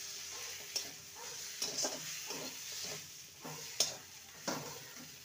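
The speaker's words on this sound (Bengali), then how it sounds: "গরম মশলার গুঁড়ো দিয়ে ভালো করে নেড়ে নেব।" A spoon scrapes and stirs spiced potato filling with garam masala in a pan, giving a few distinct scraping strokes over a soft, quiet sizzle.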